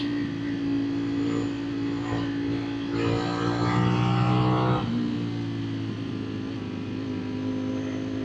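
A 2025 Ducati Streetfighter V4 motorcycle runs with its exhaust baffles removed, a loud, steady, close engine drone that swells briefly mid-way before settling back to a high idle.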